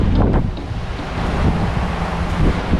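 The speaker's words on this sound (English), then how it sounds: "we've been battened down for 3 days now with really high winds" Strong, gusty wind roars over the sea around a boat battened down in high winds, with buffeting across the microphone and surf churning underneath in a continuous loud rush.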